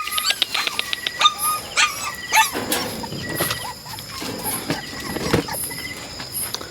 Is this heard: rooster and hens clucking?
no